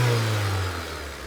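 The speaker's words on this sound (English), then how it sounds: "I'm just going to give it some throttle here" A 2005 Honda Civic engine with a misfire and low power revs loudly and close as the throttle cable is pulled by hand, a steady mid-pitched drone that slowly eases back, with no talking.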